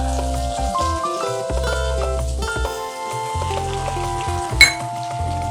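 Onions frying with ginger garlic paste for a Nepali-style cabbage curry, a close pan sizzle mixed with sustained tonal hum and a brief metallic clink near the end, without speech.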